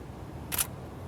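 A single sharp camera shutter click, short and crisp, standing out briefly against a quiet room hum.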